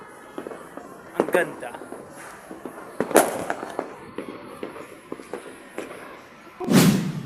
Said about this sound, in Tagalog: Hindi ako magsasawang makakita ng fireworks, di ba?